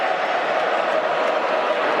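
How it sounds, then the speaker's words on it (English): Crowd at an Australian football match between Fremantle and West Coast, a steady broad roar of cheering from the stands, loud and continuous through the moment with no single standout shout. "And the crowd's feeling it."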